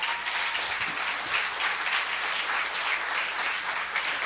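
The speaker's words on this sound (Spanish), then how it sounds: "Denle un fuerte aplauso al Señor." An audience at a church service applauds in a steady, even wash of many hands clapping, moderately distant and continuous with no talking over it.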